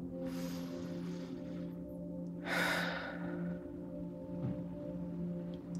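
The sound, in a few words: a person taking a deep breath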